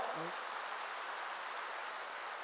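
A church congregation claps at a pastor's urging, a faint, even wash of many hands heard from a distance, continuous and unbroken throughout.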